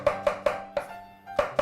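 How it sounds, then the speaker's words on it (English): A kitchen knife chopping ingredients roughly on a board, six crisp knocks in an uneven rhythm with a short pause midway, close and clear with no talk. "you can do anything you like just to chop them up roughly"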